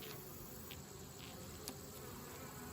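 Honeybees buzz faintly and steadily around an opened Langstroth hive during an inspection, a soft, even drone with a few brief, slightly closer passes.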